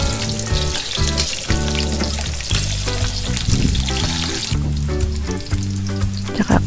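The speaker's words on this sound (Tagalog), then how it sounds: "Gisahin po natin hanggang sa lumabas yung kanilang aroma." Onions sautéing in a hot pan for chicken asado give a steady, close sizzle that runs throughout, mixed under prominent background music.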